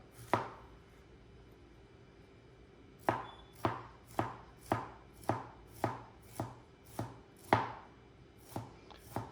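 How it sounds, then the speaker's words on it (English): A knife chops food on a cutting board close by: one lone chop, a pause, then a run of evenly spaced sharp knocks, with no talking. "I'm not stuck, I'm just chopping stuff up."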